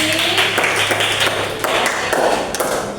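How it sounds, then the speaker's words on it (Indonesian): Classroom applause for a student named Devi during a math lesson, a dense stretch of children's clapping close by that keeps going steadily over a constant background hum. "Tepuk tangan buat Devi."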